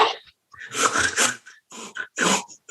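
A voice imitates loud, noisy breathing while eating: close, rough huffs and snorting breaths in irregular bursts, broken by short pauses, loud and right at the microphone.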